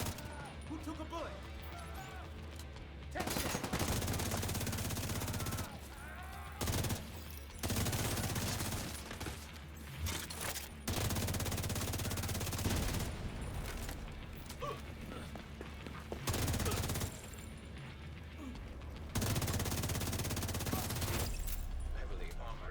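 Near-constant gunfire and explosions in The Division 2, a solo or group PVE Striker mission at St. Elmo's: dense rattling bursts and booming impacts fill nearly the whole stretch, with only brief drops between volleys.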